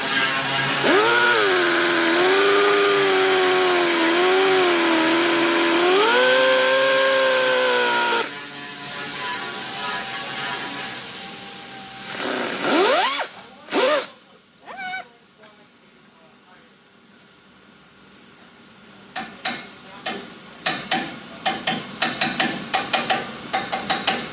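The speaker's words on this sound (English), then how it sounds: "So I'll probably cut it up to the lip with the grinding disc" A grinding disc cuts into metal on a Protege vacuum, producing a loud, steady, wavering whine for several seconds that then gives way to a series of short, sharp bursts.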